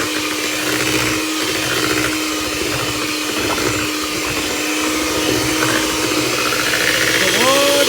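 A steady, loud mechanical whir of a blender runs throughout, with a faint voice talking underneath.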